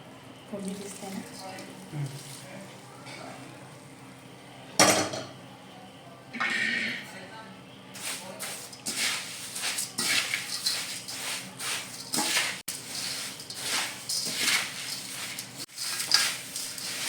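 Puffed rice chivda being stirred and tossed with warm tempering in a pot, a run of crisp rustling and scraping that grows busier and louder in the second half, with occasional sharp clinks against the pot.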